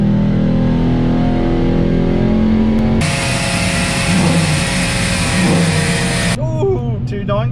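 A tuned Audi S5 engine runs hard on a dyno, its tone climbing and then holding as a loud, sustained roar before cutting off and settling. Voices are faint.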